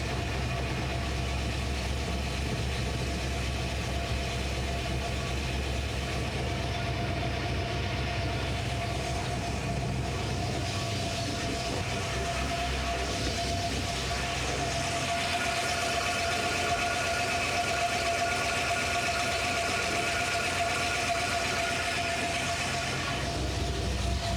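A Datsun car engine idles in a steady low rumble with a constant hum, heard close and continuously with no talking.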